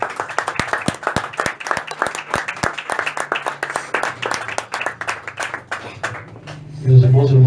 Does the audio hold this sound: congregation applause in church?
yes